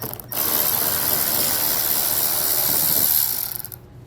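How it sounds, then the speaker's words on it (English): A ratchet rapidly clicks for about three seconds while removing a 7mm fastener behind a flap at the side of a 2022 Chevrolet Equinox's front fascia, close and steady before slowing to a stop. "you're going to have one more 7mm fastener that needs to be removed."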